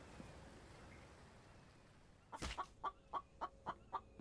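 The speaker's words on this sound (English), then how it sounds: "I hear you, chicken." A chicken in the survival video game The Infected gives a sharp squawk and then a run of six evenly spaced clucks, close and clear over a faint ambient hum.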